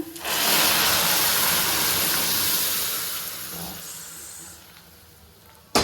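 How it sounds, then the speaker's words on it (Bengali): Boiled dal poured into hot tempering in a wok gives a loud, sudden hiss that swells at once, then slowly fades and thins over several seconds, ending with a brief clatter. "আমি এবারে ডালটাকে এর মধ্যে ঢেলে দিলাম"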